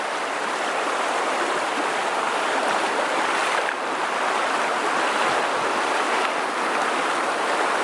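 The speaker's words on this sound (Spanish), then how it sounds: "por aquí mirar cómo viene el agua" Floodwater rushing down a street in Murcia during a DANA storm, a continuous loud roaring wash of flowing water with a wind-buffeted rumble and no pauses.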